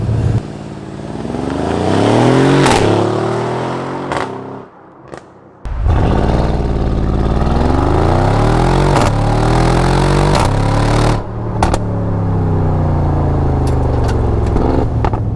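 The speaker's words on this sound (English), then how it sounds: "It's so loud, and there's just so much drama with this engine." Mercedes-AMG GLE63s with the M157 V8 engine in Sport Plus launch control: loud, close revving and hard acceleration with rising gear sweeps, a brief lull for a shift, then more surging pulls and crackles.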